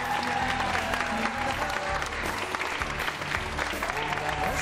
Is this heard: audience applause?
yes